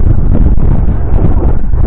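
Strong wind buffets the microphone at an outdoor vegetable market, giving a constant loud, low rumbling roar for the whole stretch with no other clear sounds.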